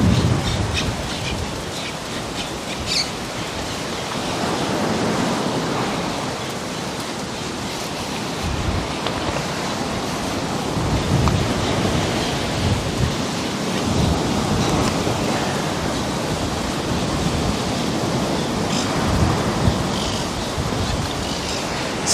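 Strong wind blowing outdoors near sunset, a steady broadband rush with gusty swells buffeting close to the microphone throughout, with no talk.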